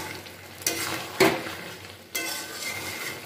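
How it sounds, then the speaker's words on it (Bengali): Bottle gourd leaf chorchori with sugar is stirred in a pan, with a few scraping strokes of a spatula over a soft steady sizzle, close and alone. "এবার দিয়ে খুব ভালো করে নাড়াচাড়া করে মিশিয়ে নিচ্ছি।"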